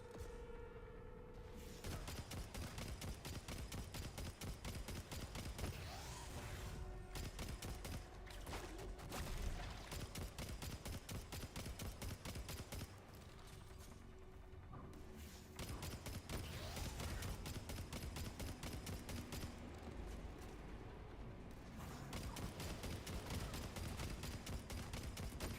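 Rapid weapon fire in the Destiny video game during a Titan run through the Quarry lost sector, dense sustained bursts of automatic shots in long stretches broken by short pauses, loud and constant with no talking.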